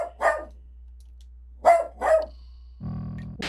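A dog barks three times, sharp and fairly close, with pauses between, followed by a short rattling clatter at the end.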